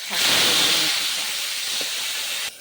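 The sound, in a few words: fenugreek greens frying in a wok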